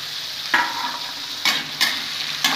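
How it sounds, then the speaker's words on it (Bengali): Chopped vegetables for upma fry in a hot pan, a steady close sizzle broken by three or four scraping stirs of a spatula. "ভেজে ভেজে নেব, ভালো করে ভেজে নেব।"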